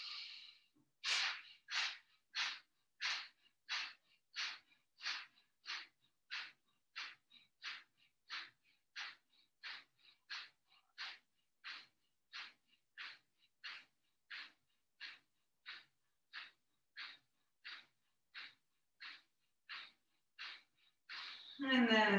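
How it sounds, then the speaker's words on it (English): Kapalabhati yoga breathing: around thirty rapid, forceful nasal exhales in a steady, even rhythm, close and clear against near silence, with a deeper breath at the end. "inhale three-quarters of the way to prepare for a round of kapalabhati. We'll do about 30 breaths."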